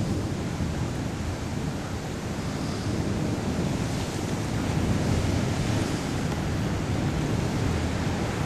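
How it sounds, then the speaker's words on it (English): Gusty wind sweeps across a lake where a small waterspout swirls the water, producing a steady, loud, broadband roar with no break for the whole stretch. "Here comes the wind."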